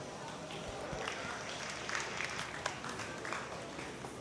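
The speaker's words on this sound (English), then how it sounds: "So give them one a nice round of applause." At a swine show, an audience applauds in a low, distant wash of scattered claps blended with the hall's background murmur and shuffling, all faint and steady throughout.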